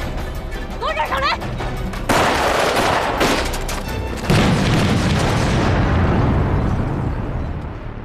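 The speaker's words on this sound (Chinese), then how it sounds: "山下传来的枪声越来越激烈" Gunfire rings out from below a mountain during a wartime battle scene in a Chinese spy drama, with loud booming blasts and sustained rattling bursts that build and roll on, some speech mixed in early.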